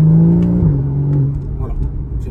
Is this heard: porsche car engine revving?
yes